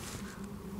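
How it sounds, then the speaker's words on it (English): Steady low droning hum of honey bees inside a hive, continuous and even, muffled as if heard through a wall, with no voices. "we've got the listening hole where we can hear the bees buzzing"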